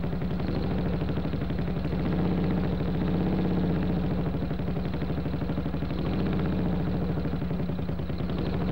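Motorcycle engine of the early 1940s running steadily at a low, throbbing idle-like rhythm, close and continuous for the whole stretch with no voices.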